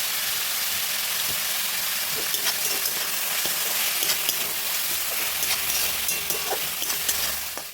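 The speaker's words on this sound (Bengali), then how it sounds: "এবার আমি ক্যাপসিকামটা কেটেছিলাম, সেই ক্যাপসিকামটা এর মধ্যে দিয়ে দিলাম।" Vegetables with chopped capsicum stir-fry in a hot pan for chicken ball chow mein, giving a loud, continuous sizzle with scattered scraping taps of a spatula, close up and without speech.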